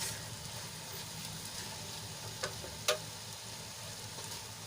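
Masala and okra sauté in a pan for a stuffed okra curry, a steady low sizzle running throughout with a couple of brief sharp clicks from stirring near the end.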